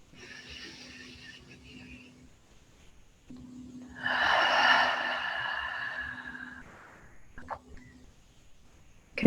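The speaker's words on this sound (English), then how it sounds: "Inhaling through the nose." Slow, steady breath drawn in through the nose during a guided meditation, a soft airy rush that swells for a few seconds under a faint low background hum, then fades.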